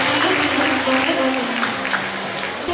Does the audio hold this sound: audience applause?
yes